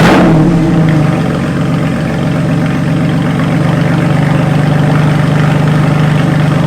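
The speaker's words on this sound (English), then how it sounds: "we're going to get a cold start on a 2014 Porsche Cayman S 981 with crazy custom one-of-a-kind" A 2014 Porsche Cayman S 981 with a one-of-a-kind custom exhaust fires up from cold with a loud burst, then settles into a steady, rumbling high idle, close by, while a voice talks briefly over it.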